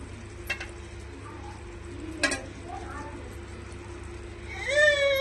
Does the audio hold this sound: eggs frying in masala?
yes